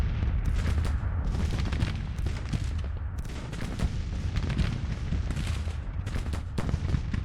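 Dense, continuous booming of cannon fire in the video game Grand Tactician: The Civil War, heavy rumbling blasts overlapping with sharp cracks throughout, loud and relentless.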